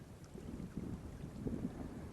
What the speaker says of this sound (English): The wind's just kicked up.